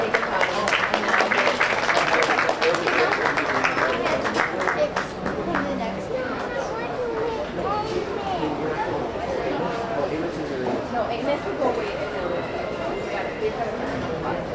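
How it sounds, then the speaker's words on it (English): Applause and crowd chatter fill a county fair swine show arena as five exhibitors are recognized, a dense wash of clapping and murmuring voices that stays steady throughout and eases slightly after the first few seconds. "Let's give these 5 exhibitors a big round of applause."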